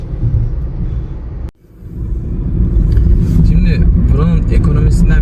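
A roughly 2011 Skoda Fabia drives along with a loud, steady engine and road rumble from inside the cabin. The noise briefly drops away, then returns stronger as someone talks over it.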